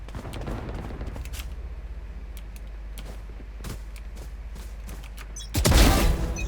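Rapid video-game gunfire as headshots land: a string of sharp shots pops over steady background game noise, then a louder, denser burst of fire hits near the end.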